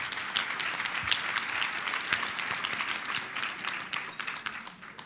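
A live event crowd applauds with dense, sustained clapping that fills the room and eases off slightly toward the end.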